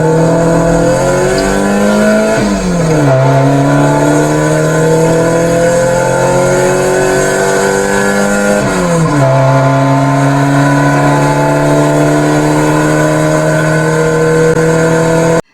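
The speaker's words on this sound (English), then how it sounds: "They hopped into Andeat's car and headed to the airfield" A car drives and accelerates steadily, its engine note climbing through two gear shifts with dips near 2.5 and 9 seconds, loud and continuous throughout with no voices.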